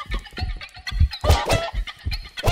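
Chickens clucking in the video game Minecraft, a run of short, choppy clucks in an uneven rhythm, fairly loud and close, with no talking.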